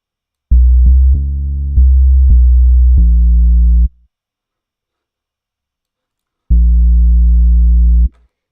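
A loud, clean, sustained synth bass plays a run of short notes that steps into a longer held tone. After a pause a single long note follows, exposed and without talking.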